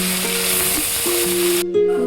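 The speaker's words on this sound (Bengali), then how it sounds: "তেল গরম হয়ে গিয়েছে, এবার একে একে মাছগুলোকে ভেজে নেব" Fish frying one by one in hot oil in a pan, a steady bright sizzle running throughout with a faint low hum, the hiss cutting off sharply near the end.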